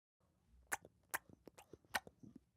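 Quiet, close-up chewing with a handful of sharp crunchy bites and wet mouth clicks in an irregular rhythm, alone and soft against near silence.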